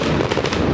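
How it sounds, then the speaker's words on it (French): Fireworks crackle and pop at the close of a football match in Genk, a dense, loud burst of bangs and sizzles filling the short moment with no voices. "avec les feux d'artifice."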